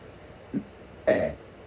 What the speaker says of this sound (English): Sorry, I had to burp.